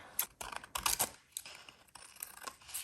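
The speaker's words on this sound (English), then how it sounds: "Then I'm cutting away the excess from the back." Scissors snipping away excess paper from the back of a mixed media paper tag, a few quick crisp cuts in an uneven rhythm, close and fairly quiet.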